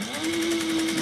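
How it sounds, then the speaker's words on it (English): A sewing machine stitches along the bottom edge of a piece of fabric, a steady close-up motor whir holding an even pitch for about a second with no talking. "And we're going to sew the bottom."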